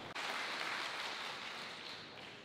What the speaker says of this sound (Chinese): 掌声更热烈了哈